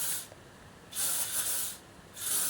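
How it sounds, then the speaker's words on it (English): Elnett hairspray sprayed onto hair in three short hissing bursts with brief pauses between them, close and fairly soft. "really lightly spray quite a lot of Elnett hairspray"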